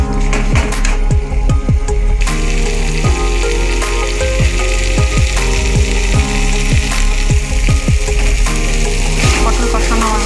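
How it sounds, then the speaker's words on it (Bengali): Pointed gourd (potol) sautés in a pan, producing a loud, close, continuous sizzle broken by frequent sharp clicks and taps from stirring against the pan. "পটল কষানো আমার হয়ে গেছে"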